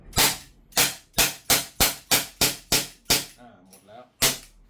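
A gas-powered airsoft Smith & Wesson 686 revolver being test fired: about ten sharp, close pops in a quick, fairly even sequence, a short pause, then one final shot.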